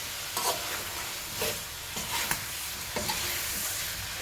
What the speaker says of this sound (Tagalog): So, i-mix lang natin hanggang sa ma-mix natin ng maayos yung butter niya.